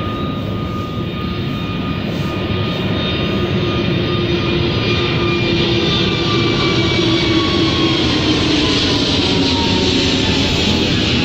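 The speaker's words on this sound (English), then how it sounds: "I'm trying to record how an aeroplane is flying over my head." A propeller airplane drones steadily overhead, loud and continuous, its engine tone slowly shifting in pitch as it passes.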